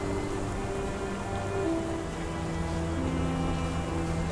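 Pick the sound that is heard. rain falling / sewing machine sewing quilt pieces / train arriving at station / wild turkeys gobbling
rain falling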